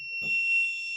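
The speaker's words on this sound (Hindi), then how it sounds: "ये फायर अलार्म सिस्टम जो बोल रहा है इसके अंदर, ये फायर अलार्मिंग डिटेक्शन सिस्टम होता है" A fire alarm detection system inside a vehicle sounds a steady, piercing electronic tone with a strong harmonic, continuous throughout at close range, with a brief low thump near the start.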